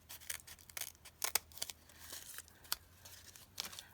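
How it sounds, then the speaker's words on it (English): Scissors snip off craft trim in a quiet room, with a handful of sharp, faint, close cuts spaced irregularly among light crinkling and tearing sounds. "I can snip that one. And let's go ahead and cut that off of there."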